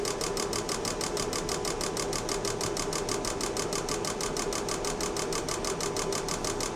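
A fuel injector tester runs an idle spray test on injectors from a Mercedes W124 220E, giving a loud, steady, rapid mechanical ticking pulse that continues without a break and without voices.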